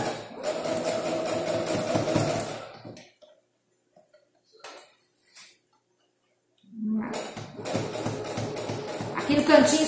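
A sewing machine stitches the edge of a wallet in two short runs of steady mechanical whirring, broken by a few seconds of near silence with faint handling sounds.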